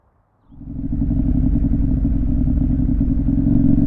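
KTM Duke 890R motorcycle with an SC Project slip-on exhaust starts up from near silence, then settles into a loud, steady, throbbing engine drone, close to the microphone.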